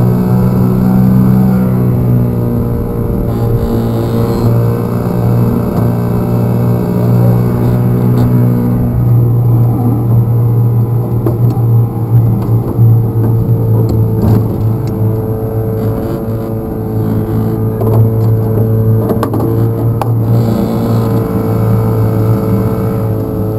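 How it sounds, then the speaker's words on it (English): A boat engine with a fault runs steadily at low speed, a loud continuous droning hum with tonal vibration rattling through the hull, close and unbroken throughout. "Engine vibrating side of the boat."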